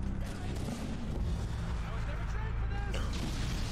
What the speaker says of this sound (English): There's explosions going all around.